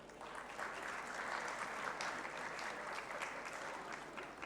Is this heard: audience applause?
yes